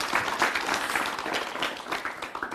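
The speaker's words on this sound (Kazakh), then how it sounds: "Алуға болады, егер шапат қақса." Audience at a Karakalpak comedy show applauding, steady dense clapping from a crowd throughout.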